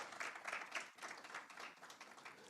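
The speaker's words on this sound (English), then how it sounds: "Give yourselves a round of applause." A small audience claps for a debate team at a competition finals, the applause faint and distant, thinning out after a couple of seconds.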